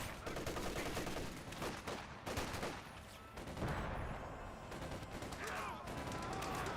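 Gunfire and grenade blasts from the Company of Heroes 2 strategy game rattle almost without pause, dense bursts and explosions under a caster's talk.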